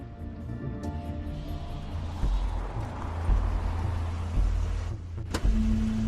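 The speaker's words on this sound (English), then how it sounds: "That's Crane's car." Crane's car in the video game The Wolf Among Us: a steady, close mechanical hum and engine rumble running throughout, with a brief sharp click near the end and no talking.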